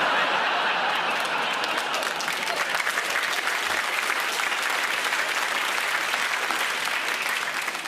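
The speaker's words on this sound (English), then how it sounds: "It's the first time anywhere in the world people are clapping for corruption." Loud, sustained applause and clapping from a comedy show audience, a dense continuous wash of many hands with scattered chuckles and laughter mixed in, running steadily without a break.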